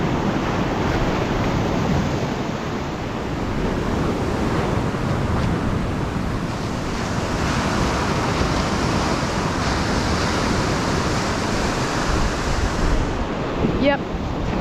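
Ocean waves break and wash continuously on a beach during topwater fishing from the shore, a loud, dense roar of surf mixed with wind buffeting the microphone throughout.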